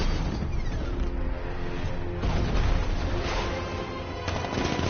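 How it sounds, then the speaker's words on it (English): Rapid heavy gunfire from the Batmobile's 60mm cannon in the Batman Arkham Knight game, a dense, continuous barrage of loud booming shots with no breaks, close and dominant throughout. "60mm cannon operational."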